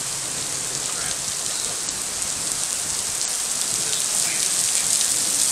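Thunderstorm rain in Denver, Colorado, a dense, steady hiss of heavy rainfall on surfaces that persists throughout, with faint low rumbles beneath and no voices.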